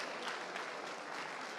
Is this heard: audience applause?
yes